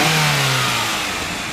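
A 1993 Honda Accord EX engine, running well with fresh NGK Platinum spark plugs, revs up close by, a steady loud mechanical drone with a low tone that gradually falls over about a second and a half.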